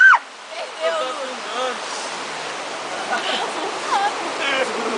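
A waterfall rushes in a constant, broad wash of noise, close by and steady, while people talk and call out over it.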